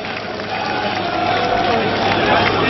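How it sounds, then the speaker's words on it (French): A crowd at a FROCAD political meeting in Pointe-Noire applauds in an unbroken, loud roar of clapping and crowd noise, with voices mixed in. "Applaudissez le vieux Satou."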